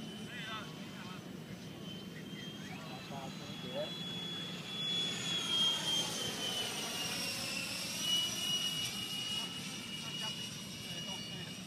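An F-16 fighter jet lands, its engine roar swelling into a broad sweeping rush that stays loud and sustained for several seconds. Voices talk faintly in the background.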